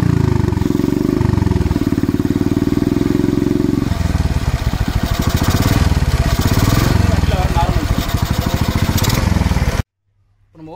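A modified Bajaj Platina 100 motorcycle with an aftermarket exhaust runs loud and close, its single-cylinder thump shifting from steady idle to choppier revs before cutting off abruptly near the end, with someone talking over it.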